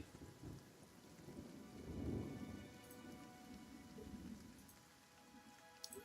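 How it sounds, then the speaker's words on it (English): Rain falls steadily with low rolling thunder swelling near the middle, in the Stormwall Gorge area of the video game Pillars of Eternity; continuous, moderately quiet storm ambience with no voices. "It's even raining"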